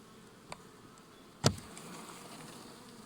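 Honeybees hum in a steady, faint buzz at an open hive during frame work, with a brief sharp tap and a louder crackle partway through.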